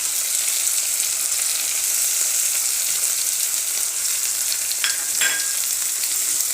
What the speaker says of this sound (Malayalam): അപ്പം മസാലേൻ്റെ പച്ചപ്പ് മാറുന്നോടം വരെ നമുക്കൊന്ന് റോസ്റ്റ് ചെയ്ത് വരും.